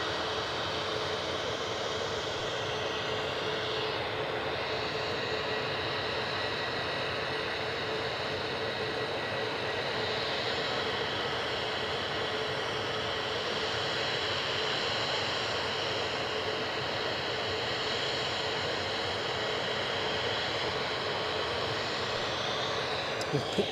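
Airplane engines roar steadily at Edinburgh Airport, a continuous broadband rumble and whine that holds for the whole stretch, fairly loud and sustained with no break.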